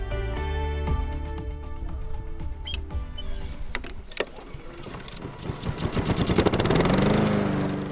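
A lawnmower engine drones steadily and loudly up close, its rough harmonic hum shifting slightly in pitch as it works, with a few sharper clatters near the middle.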